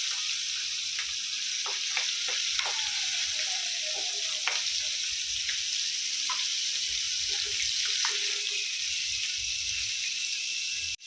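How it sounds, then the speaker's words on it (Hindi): Prawns fry in hot oil in a Konkani restaurant-style home kitchen, giving a steady close hiss with scattered pops and crackles that runs throughout, no voices. "अभी ऑयल के अंदर ये झींगे फ्राई कर लेंगे"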